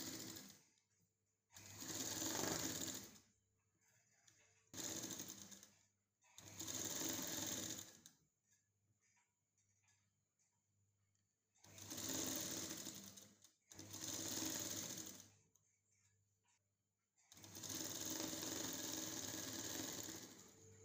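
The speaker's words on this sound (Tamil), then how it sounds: "அப்படியே நெட்டாக மட்டும் நம்ம இந்த ரவுண்டில் மட்டும் வச்சு தைச்சிடலாம்." Sewing machine stitching a brassiere hem in a tailoring class, running in four separate bursts of a few seconds each with quiet pauses between, close and steady.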